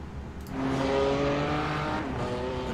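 A BMW GT3 race car in a racing game sweeps past at Brands Hatch through turn 9, its engine note climbing into a loud, sustained high-revving whine near the listener, then easing slightly as it pulls away.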